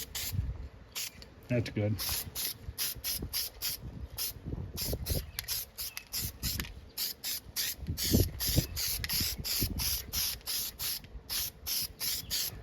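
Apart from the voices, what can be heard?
spray can spraying paint on arcade cabinet parts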